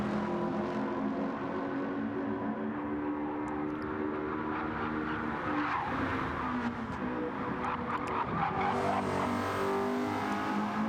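Race cars lap the circuit during the closing stages of the first Sardegna race. Engines drone continuously at a steady level, with no voices over the sound.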